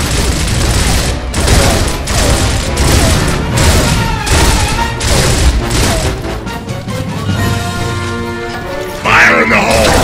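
Gears of War combat: a loud, continuous barrage of gunfire with heavy booming blasts from a frag grenade explosion, dense and close throughout, with voices shouting underneath.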